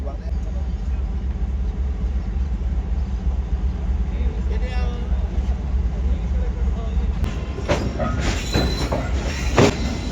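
A passenger train on the Awam Express journey halts at a station, a steady low rumble of rolling coaches with faint metallic clatter and squeal near the end, under people talking.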